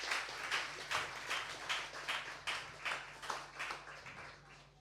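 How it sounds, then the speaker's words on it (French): A church congregation claps together during a Sunday service, giving a steady, moderately loud round of applause with a regular rhythm from start to end. "On peut les applaudir."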